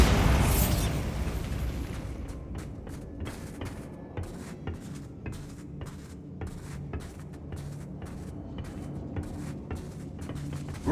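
A Bombarda spell in Hogwarts Legacy detonates in a loud opening blast, followed by a rumbling tail scattered with rapid debris clatters and thumps.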